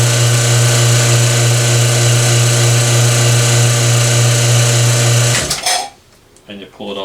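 Vacuum pump system running for a woodturning lathe vacuum chuck, a loud steady motor drone with a strong low hum that stops after about five seconds, followed by clicks and handling noise.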